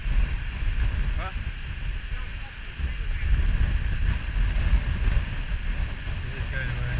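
Strong, gusting wind on the exposed summit of Scafell Pike roars steadily and loudly against the microphone, a continuous rushing buffet with brief faint voices underneath.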